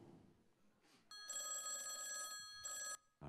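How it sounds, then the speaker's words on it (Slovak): A landline telephone bell rings loud and close in two long bursts with a short gap between them, each a bright, steady electronic trill, after a brief stretch of quiet room noise. "Telefón zvoní"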